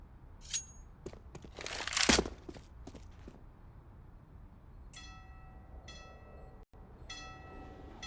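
A train rolls past on the Overpass map in a Counter-Strike match, with a few sharp crunching bursts followed by steady mechanical rumble and faint tonal whine, fairly quiet and without talk.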